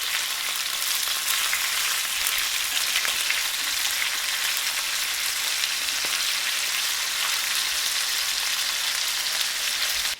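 Chicken pieces sizzle as they grill in a hot pan, a loud, even crackle of frying that runs steadily without a pause and with no voices over it.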